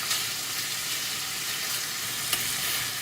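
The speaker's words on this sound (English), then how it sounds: "you want to put your steaks just in the pan and you want to get them kind of brown and caramelised on the outside" Beef steaks brown in a hot pan for a slow-cooked beef lasagne, giving a steady, close, even frying sizzle with a faint crackle or two and no voices.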